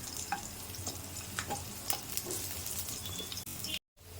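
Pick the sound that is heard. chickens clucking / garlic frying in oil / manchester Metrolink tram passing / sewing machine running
garlic frying in oil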